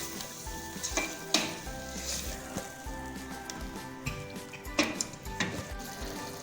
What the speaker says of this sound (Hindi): ये डाल देंगे तेल में और इसको अच्छी तरह भूनेंगे।